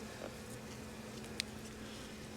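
Honey bees on a hive frame during an outdoor hive inspection in Jacksonville, Florida, make a faint, steady buzz, with one brief sharp tap partway through.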